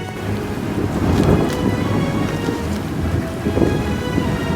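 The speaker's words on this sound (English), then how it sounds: "It wasn't a mist anymore, it was a steady rain." Steady heavy rain falling in the Alaska wilderness as a storm builds, a dense constant hiss with low rumbling gusts of wind underneath, loud and close, no voices.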